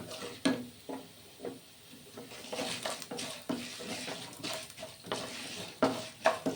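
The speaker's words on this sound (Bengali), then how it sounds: "ভালো করে ফুটিয়ে নিয়েছি, ভাজা হয়ে গেছে ডালগুলো।" Lentils frying and being stirred in a pan, a soft continuous sizzle with intermittent scraping strokes of a spoon against the pan at close range.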